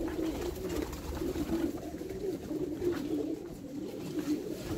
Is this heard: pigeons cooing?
yes